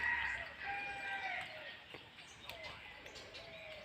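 A rooster crows at a distance around a temple grounds in rural Thailand, the call stretched and partly faint, set against light background noise and birdsong.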